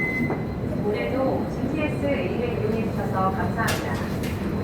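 Steady low rumble and rattle inside a moving GTX-A high-speed subway train, with continuous rolling noise, faint squeals and occasional clanks, while a person talks over it.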